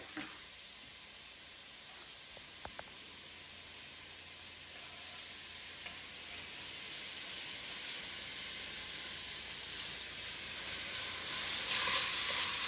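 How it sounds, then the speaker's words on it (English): Butter melting in a pot of sweated-down vegetables for chicken gnocchi soup: a steady, soft sizzling hiss that swells slightly toward the end, with faint clinks and no talking. "And our butter is melting."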